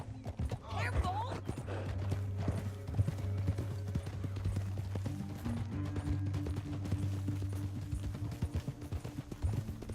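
Horse hooves gallop in a rapid, continuous clip-clop during a Red Dead Redemption 2 ride, with gunfire-like cracks, a faint whinny and a steady low hum behind.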